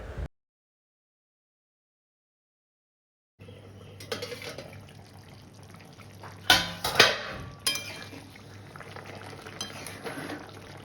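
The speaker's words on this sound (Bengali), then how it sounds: "ছোট কাপের 1 কাপ পরিমাণ একটু জল দিয়ে দিচ্ছে" Water goes into chicken curry masala in a pan, a brief pour followed by bubbling and sizzling from the cooking spices, moderately close with a few louder splashy bursts and no talk.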